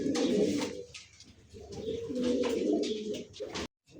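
Pigeons coo close by in a pair, two long rolling coo phrases separated by a brief lull, loud and alone before cutting off abruptly.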